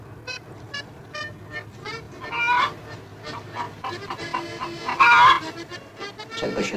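A hen, kept in a bathroom, clucks and squawks in short bursts, with two louder, sharper outcries rising above a murmuring indoor background and no clear speech.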